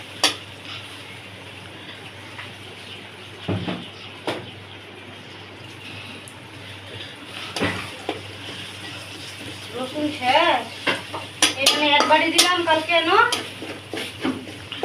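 Metal pots and utensils clank and scrape on a stovetop while curry is being cooked at home, with a couple of sharp knocks early on, then busier stirring and sizzling, as voices talk nearby.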